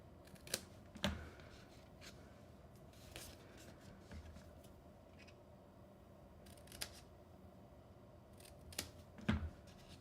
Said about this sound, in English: I'm going to come in and miter cut the tabs.